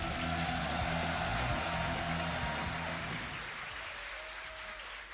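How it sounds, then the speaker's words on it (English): A dense wash of crowd applause and cheering fills a Yu-Gi-Oh! World Championship arena before a semi-final, with a low music bed underneath that drops away partway through. "The crowd is excited. You can hear them all."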